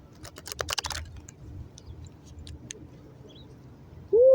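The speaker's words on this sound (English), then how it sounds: "let me just shuffle one more time" Tarot cards are shuffled in a short flurry of crisp, close riffling clicks that trail off into quieter scattered taps, followed by a brief vocal sound at the very end.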